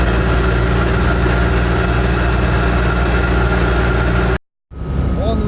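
A Citroen 2CV's engine drones loudly and steadily while driving on a road, with a brief cut near the end before a quieter stretch of the engine resumes.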